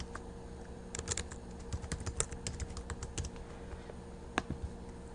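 Computer keyboard typing in quick irregular bursts of close, crisp clicks, with one sharper keystroke near the end and no speech.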